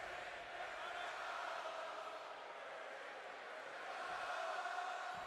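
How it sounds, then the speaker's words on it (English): A wrestling crowd at an IPW Primetime show chants for Mysterio, a faint, steady roar of massed voices heard from a distance with no break. "Crowd chanting for Mysterio, which is a surprise as Uncle Howdy out the gates quick."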